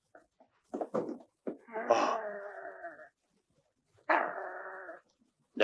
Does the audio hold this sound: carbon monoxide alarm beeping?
no